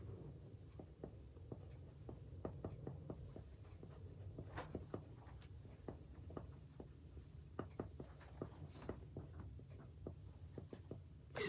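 Pen or marker strokes scratch steadily across paper while text is lettered onto a hand-drawn book cover, a quiet, close run of many short taps and scrapes over a soft background hiss.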